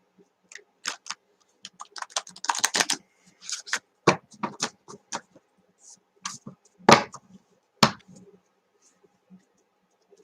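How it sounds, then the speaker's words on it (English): A deck of cards being shuffled by hand at a craft table, irregular bursts of close, crisp riffling and flicking separated by short silences. "I'm just shuffling the cards."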